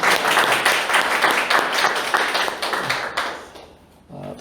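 A church congregation at a Sunday worship service applauds in a dense, steady burst of clapping that fades away near the end.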